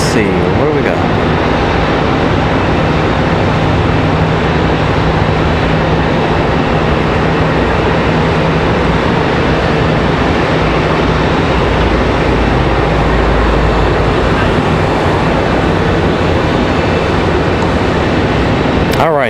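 Piedmont Airlines flight 6077 takes off from Charlotte Douglas International bound for Knoxville, its engines producing a loud, sustained broadband roar throughout, with a person talking over it.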